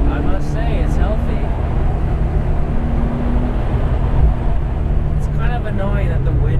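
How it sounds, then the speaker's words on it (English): Continuous wind rush fills the recording, heavy and broadband, with a low engine drone underneath, from inside a moving Porsche 964 Carrera 2 Targa with a manual gearbox. "Annoying that the wind noise kind of drowns the engine noise"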